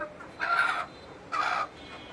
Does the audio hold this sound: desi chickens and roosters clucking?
yes